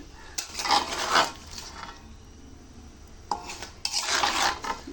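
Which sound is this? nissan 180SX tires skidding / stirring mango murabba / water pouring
stirring mango murabba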